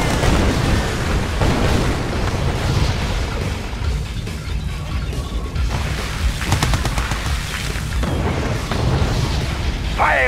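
Artillery blasts and gunfire from the real-time strategy game Red Alert 2: Yuri's Revenge, a Soviet naval assault on Grand Cannons, form a dense, continuous barrage of booms and bursts throughout, loud and layered.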